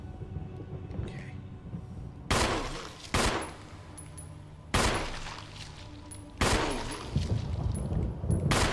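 Bursts of gunfire in the Resident Evil video game, several loud, sharp volleys spaced a second or two apart over a low ambient hum, with no talking.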